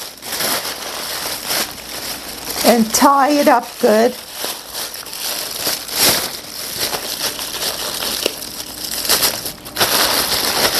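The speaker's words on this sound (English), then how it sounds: "I'm going to take a plastic bag and I'm going to wrap it in the plastic bag" A package being wrapped in a plastic bag, crinkling and crumpling plastic heard up close in bursts, with a person talking briefly over it.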